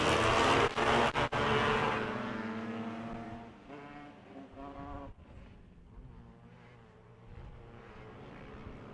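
Race cars starting a race at the track, a loud roar of several engines at first that fades into layered, droning engine tones as the cars pull away, with a few sharp cracks early on.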